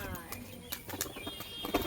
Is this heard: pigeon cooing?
yes